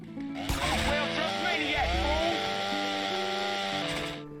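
A video-game chainsaw weapon in GTA San Andreas gives a steady, loud, buzzing motor whine that runs for about four seconds, with the pitch wavering slightly and then fading out at the end.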